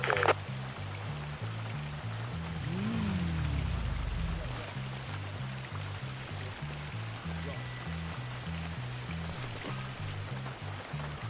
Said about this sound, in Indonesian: Hujan nih, deres nih hujan nih.